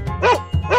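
A dog gives two quick, close, loud barks, evenly spaced about half a second apart.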